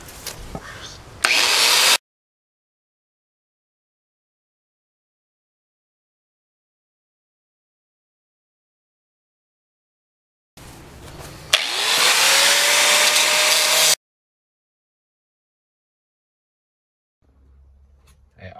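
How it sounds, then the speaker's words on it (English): Angle grinder cutting excess steel plate, heard in two loud bursts of harsh whine separated by a long silence, the second burst lasting about three seconds before cutting off. "I guess the grinder's gonna work just as good"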